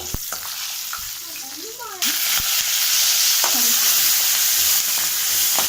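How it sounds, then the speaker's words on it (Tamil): Onions hitting hot oil with dal in a pan while cooking Tamil-style shark fish scramble: a sharp jump into a steady, loud sizzle that keeps going, with a few stirring clinks before it. "இந்த பருப்பு கொஞ்சம் லைட்டாக கலந்ததும் நம்ம வெங்காயத்தை போட்டு வதக்கலாம்."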